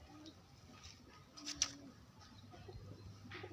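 A pigeon, an antenna pigeon, coos softly a couple of times amid quiet background noise, low and fairly faint.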